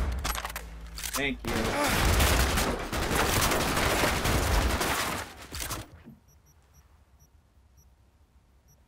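Rapid gunfire from the video game Cyberpunk 2077 erupts in a loud, dense burst of shots lasting several seconds, then cuts off and leaves only faint background noise.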